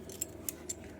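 A bunch of keys jangling three times in a brief, faint, close rattle, grabbed before heading out to a post office box.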